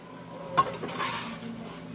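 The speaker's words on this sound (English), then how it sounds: "I'm going to add the noodles so they can start getting the flavor and mixing in there" Noodles stirred into beef in a pot: one sharp clank of a utensil against the pot, then a brief shuffling, scraping stir, close and fairly loud.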